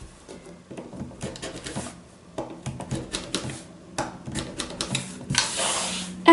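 Scissors snipping through bikini swimwear fabric and loose threads near the secured straps, a quick run of small crisp cuts and rustles, close and fairly quiet, with no talking.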